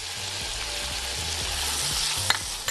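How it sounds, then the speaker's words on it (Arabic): Peppers sizzle with onions frying in a pan, a steady crackling hiss broken by the scrape and clatter of stirring, close and continuous throughout. "أنا بعد البصل هنزل بالفلفل"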